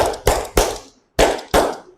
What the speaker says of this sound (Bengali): সব সময় কি করেন হাততালি মারতে থাকেন